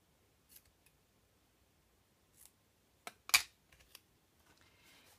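Paper decor for a castle-shaped advent calendar is snipped with scissors in a few short, crisp cuts, with one louder snip near the middle and quieter clicks around it in a calm room.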